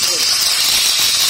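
Marinated fish sizzles in hot mustard oil on a flat tawa, a steady close hiss of frying that holds evenly for the whole moment with no voice over it.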